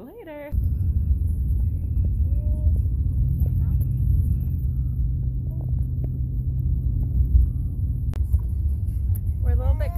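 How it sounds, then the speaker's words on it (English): Low, steady rumble of a car driving through a blizzard, heard from inside the cabin, with a voice briefly talking at the start and end over the engine and road drone. "We're driving in a blizzard"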